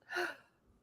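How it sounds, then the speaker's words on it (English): A woman gives a single breathy yawn, close and soft, a rising airy exhale lasting about half a second that then fades into quiet room tone. "that was a yawn"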